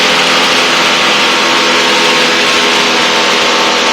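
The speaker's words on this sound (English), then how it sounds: "So chopping the throttle, getting the nose down." Challenger II ultralight aircraft engine throttled back toward idle in flight, a loud, steady, continuous drone with a broad noisy hum close to the microphone and no voices.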